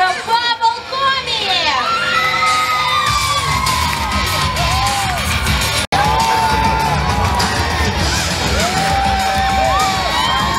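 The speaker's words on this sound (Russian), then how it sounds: "Еще раз похлопаем просто" A crowd at an outdoor cosplay show during the Humorina 2019 festival in Odessa's city garden claps, cheers and whoops steadily and loudly throughout, with shouts rising above the dense applause.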